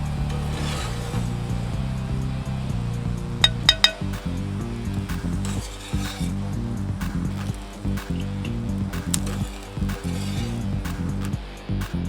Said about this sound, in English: I'm going to pull them off. I just got a spatula and a bowl.